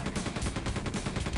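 In Quake II, rapid gunfire strikes the player, a dense loud burst of repeated machine-gun-like shots with a harsh noisy crackle, continuous throughout with no talking.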